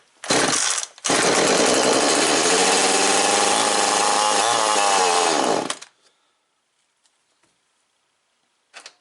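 A Zenoah G2500 clone chainsaw engine after carburetor adjustment gives a short blip, then roars loudly at high revs for about five seconds before abruptly cutting off into near silence with a few faint clicks.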